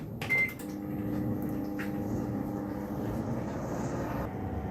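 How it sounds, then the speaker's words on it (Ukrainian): A steady, low mechanical hum of a microwave oven heating water, with a brief clunk near the start and faint clicks later. "Працює мікрохвильовка, ставлю воду."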